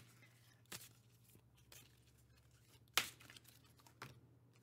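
Tarot cards being shuffled during a pick-a-card reading: soft papery riffles and crinkles with a few sharper snaps, fairly quiet, no speech.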